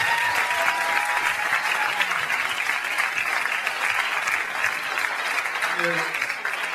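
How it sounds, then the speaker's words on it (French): A song contest semi-final audience breaks into sustained, dense applause that holds steady and loud throughout, with a faint voice briefly surfacing near the end. "Un gros applaudissement."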